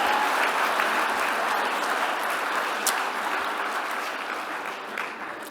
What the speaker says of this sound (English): All right, give yourselves a round of applause.